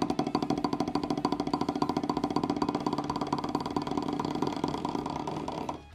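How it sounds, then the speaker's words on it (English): A buzz roll played on a drum pad at a percussion clinic makes a dense, continuous rattling press that holds steady for nearly six seconds, close and moderately loud, then cuts off abruptly, with no talking over it. "Buzz roll on a drum pad"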